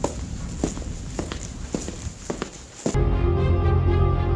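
Footsteps approaching in the animated movie Prometheum, a series of distinct thuds at a steady walking pace, followed by a sudden shift to a low, steady hum.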